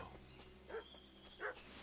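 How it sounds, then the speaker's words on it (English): A dog in the medieval video game Kingdom Come Deliverance 2 gives two or three short, faint barks spaced apart, with no talk over them. "What's that dog making such a fuss about?"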